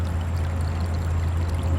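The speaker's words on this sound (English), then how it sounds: "More and more water just keep on coming out." Rainwater gushes out and runs down a street after heavy rain, a steady, continuous low rushing pour that stays close and even throughout with no voices.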